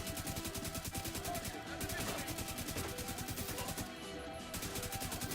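Rapid, steady automatic gunfire from an LMG-style weapon in The Division 2, a fast rattling stream of shots with brief pauses, sustained and fairly distant-sounding under faint voice chat.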